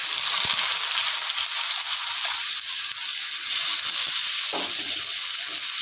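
Cut potatoes for capsicum aloo bhaja frying in plenty of hot oil in a pan: a loud, dense, steady sizzling hiss that carries on unbroken from start to finish, close up, with no talk.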